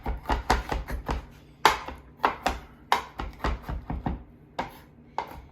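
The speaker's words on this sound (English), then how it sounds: "We're gonna just chop those up very fine also." A knife chops peeled garlic cloves finely on a board for chili, with quick, irregular close taps that come in bursts and short pauses, no talking.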